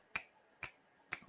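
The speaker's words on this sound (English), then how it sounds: "I feel like they snap." Three crisp finger snaps, close and evenly spaced about half a second apart, with nothing else audible around them.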